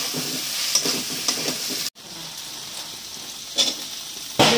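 Eggplant pieces being added to dried fish frying in a pan, giving a steady close sizzle with a few stirring scrapes and a brief cut partway through.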